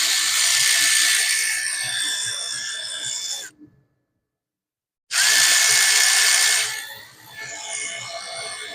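A power tool whirs loudly and up close, tightening a bolt at the intercooler during a KC Jetfire Stage 2 turbo install on a 6.0 Powerstroke. It makes two sustained runs separated by a brief silence.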